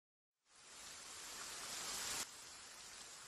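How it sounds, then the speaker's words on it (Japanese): Rain falls in the Shiny Colors video game as a steady hiss, starting abruptly and holding at a soft, even level, with no voices. "雨。"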